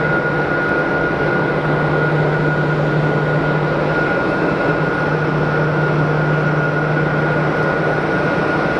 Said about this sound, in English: 320 Neo is all lined up, ready for departure. Runway 22.